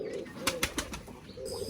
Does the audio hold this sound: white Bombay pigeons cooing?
yes